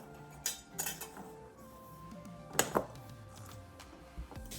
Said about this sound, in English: we will try the pastry cutter to start off